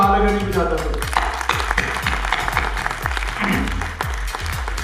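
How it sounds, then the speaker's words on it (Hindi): Hall audience at a film launch ceremony at Rawalpindi Arts Council applauding, dense clapping from a crowd, while a loud, rhythmic low thumping pulse runs underneath and plays throughout. "मैं तालियां बजा देता हूँ, हाल अगर नहीं बजाता तो।"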